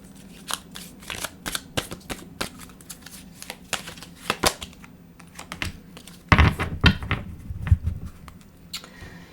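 An oracle deck is shuffled and a card pulled during a tarot reading: a string of quick papery riffles and taps, close and clear, swelling into a louder flurry near the end.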